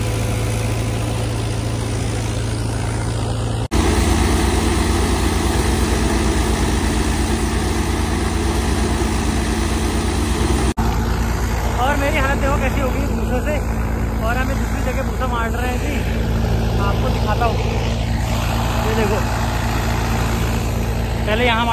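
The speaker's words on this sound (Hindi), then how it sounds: "अब हमने अपना ट्रैक्टर पैक कर दिया है और अब हम निकल रहे हैं" A tractor engine runs steadily as the tractor sets off for threshing, a loud low idling throb that continues throughout with a harsh cut midway, while people talk over it.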